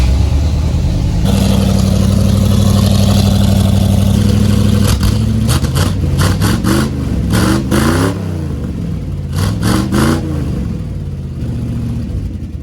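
A Ford F-100 pickup's engine runs close and loud, a steady idle at first, then several throttle blips that rise and fall in quick revving bursts before settling back.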